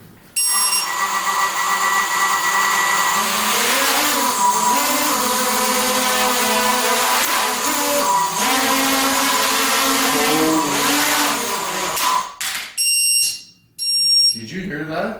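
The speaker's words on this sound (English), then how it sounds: "I'm just going to do a test hover here." A Martian 2 quadcopter hovers indoors during a test, its motors and props making a loud, steady buzzing whine whose pitch wavers for about twelve seconds before cutting out, followed by a few short, sharp bursts.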